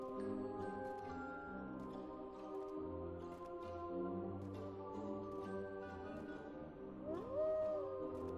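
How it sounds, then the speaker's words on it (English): A wolf howls in the horror video game Amnesia, a long rising then sustained cry near the end over a steady droning game ambience, moderately loud. "Hello, Mr. Wolf"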